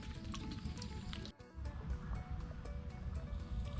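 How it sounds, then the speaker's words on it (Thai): Stream water trickles and flows on a stormy day with the water running high, a steady close wash of liquid noise that carries on throughout with only a brief dip, and no talk over it. "น้ำไหลค่อยๆ"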